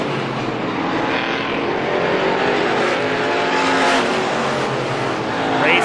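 Race cars roar around an oval track in a Strictly Stock feature race, engines loud and continuous as the pack runs close, with a commentator talking over the steady din.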